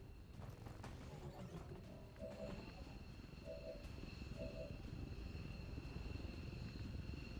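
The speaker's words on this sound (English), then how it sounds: "which is going to be a surveillance drone" A surveillance drone hovers in XCOM 2 Long War of the Chosen, giving a steady mechanical hum with a whining tone over a rumbling background that runs through the whole stretch.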